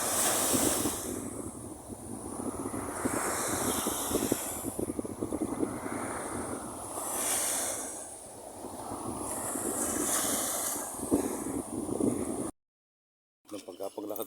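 Sea waves wash in and recede in slow, rolling surges with steady wind on a rough sea, followed by a brief silence near the end.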